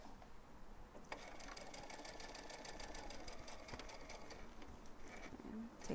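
A sewing machine stitches a quarter inch seam on a fabric face mask, its steady mid-pitched motor whir running continuously and close by, with a faint click near the start and end.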